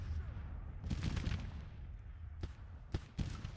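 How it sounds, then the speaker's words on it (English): Artillery booms in a Civil War battle game, cannons firing canister as a rolling roar followed by a few sharp separate reports over a steady low rumble, with faint voices in the background. "Yeah, they're firing canister because there's only 16."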